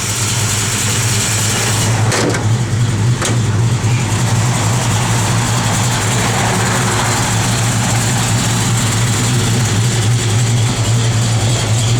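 A 1969 Dodge Dart GT engine runs loud and close with a deep, throaty rumble, idling hard with a couple of brief sharp blips near the start, steady and uninterrupted by talk.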